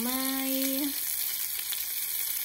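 Chicken skin frying in a pan until crisp like bacon: a steady, close bright sizzle throughout, with a brief tonal hum at the start.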